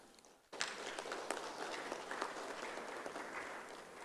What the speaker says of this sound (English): our member institutions also deserve a great applause from the House